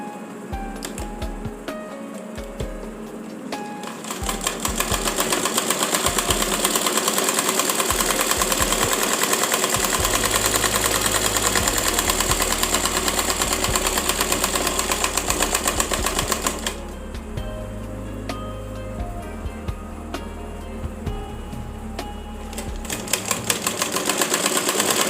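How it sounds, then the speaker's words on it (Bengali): A sewing machine runs in steady bursts while double stitching a child's umbrella frock, its motor whirring loudly with a low hum and rapid needle clatter, pausing briefly between runs. "এখানে আমি ডাবল সেলাই দিয়ে নিচ্ছি।"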